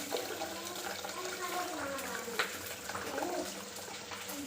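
Water poured into a pot of boiled moong dal in a home kitchen, a steady splashing, running pour close by that continues throughout at an even level.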